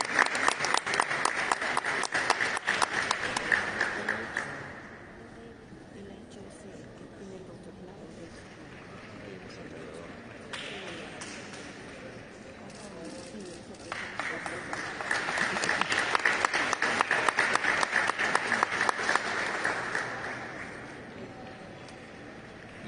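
Audience at a ceremony receiving a traditional art and crafts collection applauds an award winner in loud bursts, dying down to a quieter stretch before swelling again, then tapering off.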